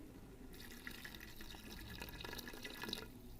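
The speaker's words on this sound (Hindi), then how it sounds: "और यहाँ अब हम इसमें डाल देंगे 2 कप पानी के" Two cups of water poured into a pan of chicken and peas curry, a soft steady splashing and trickling of liquid heard alone at low volume for a few seconds.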